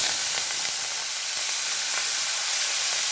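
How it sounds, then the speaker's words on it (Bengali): Shrimp frying in hot oil give a steady, loud, dense sizzle with a constant bright hiss and a few faint crackles throughout, no voices. "তেলটা হয়ে গেছে আমার, চিংড়ি মাছগুলো ভেজে"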